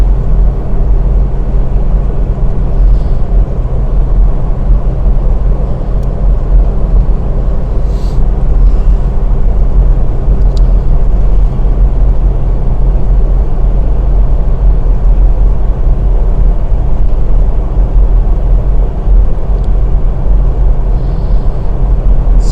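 A Toyota 80 series Land Cruiser cruises at 110 in fifth gear on a hot day, climbing a big hill without towing, giving a steady, loud engine and road drone with no talking.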